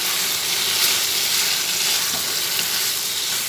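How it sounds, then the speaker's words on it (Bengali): Elephant foot yam curry sautéing with salt in a pan, a loud, continuous close-up sizzle with faint stirring scrapes and no voices. "নুন দিয়ে আবার ভালোভাবে একটু কষিয়ে নিচ্ছি এভাবে ভালোভাবে কষিয়ে নিচ্ছি"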